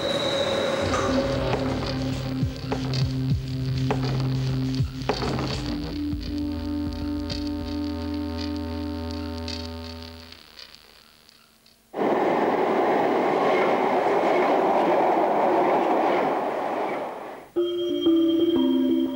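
A London Underground tube train runs in steady, loud rail noise, with metallic tonal hums and squeals over the wheel rumble, a brief drop to near quiet, then a renewed broadband roar, with no talk.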